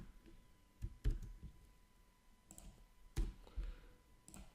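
Keys click on a computer keyboard while HTML style tags are typed, a few sparse, faint taps and clusters of clicks spread out in a quiet room.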